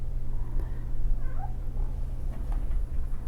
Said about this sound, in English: My little cat is running around the table.